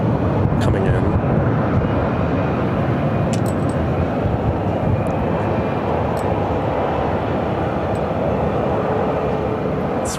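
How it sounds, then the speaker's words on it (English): A Frontier Airbus A320-200 arriving at Phoenix airport from Houston makes a steady, loud broadband engine roar that holds constant the whole time, with a few faint clicks on top. "4183 coming in from Houston on an A320-200."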